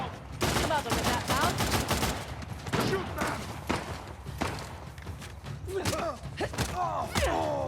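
Gunfire in the video game Uncharted 4, with rapid bursts and single shots in a running firefight along with thuds and footsteps, as voices shout through the action.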